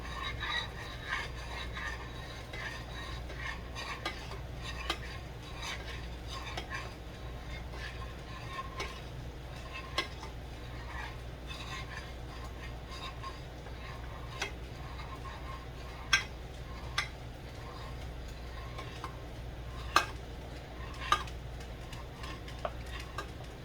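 Peanut butter fudge mixture being stirred in a pot, a faint continuous scraping with occasional soft spoon ticks against the pot over a low background hum.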